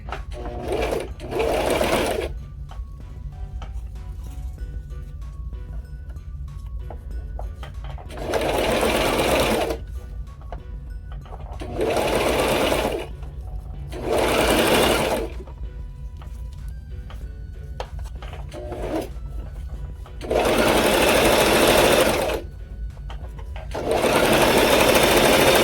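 A sewing machine stitches a custom photo-printed make-up bag in several bursts of steady whirring, with pauses between runs and a low hum underneath.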